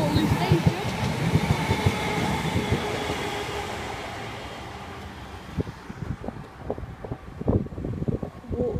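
Merseyrail Northern Line train from Southport to Hunt's Cross passing the Waterloo level crossing, with a loud rushing, rattling pass and wind buffeting that fades to rhythmic wheel clacks over the rail joints as the train moves away.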